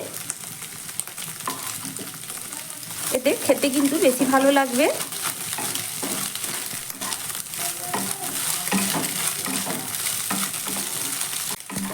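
Egg bhujia fries in a kadai with a constant close crackling sizzle and spatula stirring, while someone talks briefly over it near the start before the frying carries on alone.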